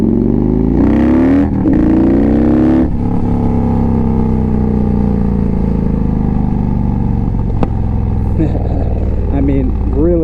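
A 2015 Victory Vegas 8-ball motorcycle accelerates with a loud, close engine drone whose pitch climbs through the gears under continuous wind rush, while a rider talks over it.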